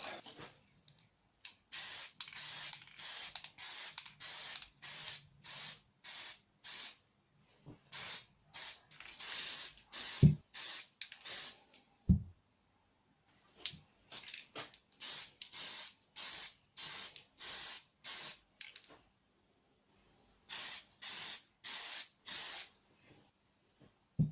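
Aerosol spray paint hisses onto the fore-stock of a CZ Air Arms S200 air rifle in a camouflage finish, coming as many short, evenly repeated bursts in clusters, close and fairly loud, with a few knocks between them.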